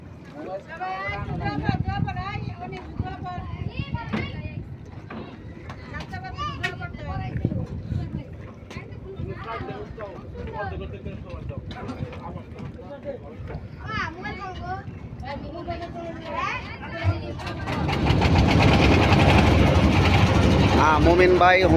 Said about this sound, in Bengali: ট্রলার এখন ছাড়ছি আমরা পদ্মার চরের উদ্দেশ্যে।